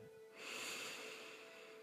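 A slow, deep breath drawn in during a children's sleep meditation: one long, soft, airy rush, close and steady, rising after a short quiet start and holding without any speech.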